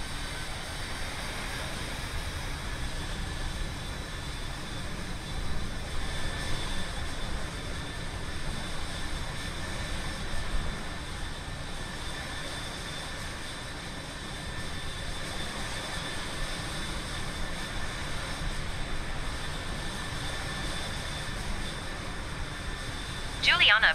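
A huge Antonov An-225 cargo plane coming in to land, its steady, broad engine roar sustained and fairly loud throughout, with a brief louder burst at the very end.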